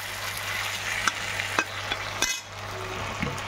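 Bhola fish sautéing in spice paste in a pan: a continuous close sizzle with a few sharp stirring scrapes and clicks against the pan, no voices.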